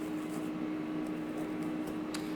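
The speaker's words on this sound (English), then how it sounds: "And then I'm going to put this back in the microwave," A microwave oven heating marinade gives off a steady, even hum with a constant low drone and faint background clicks, continuous with no talking.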